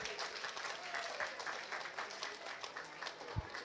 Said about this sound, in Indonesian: Give year 7 a big round of applause for the beautiful singing.